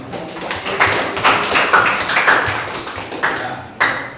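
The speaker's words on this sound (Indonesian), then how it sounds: "Tepuk tangan buat Bimo." Students clap for a classmate in a school classroom, a short burst of sharp, uneven claps with a few louder slaps standing out near the end.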